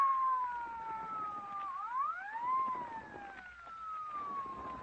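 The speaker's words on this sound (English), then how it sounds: "What chowderhead was stupid enough to use his siren?" A police car siren wails in an old-time radio crime drama, a loud steady tone that bends down and then sweeps back up before holding, sounding alone without voices.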